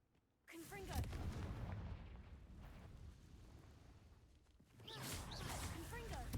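Confringo fire spell blasts in Hogwarts Legacy: a sudden fiery explosion kicks in, rumbles and fades, then a second blast swells near the end, with a voice speaking over the bursts.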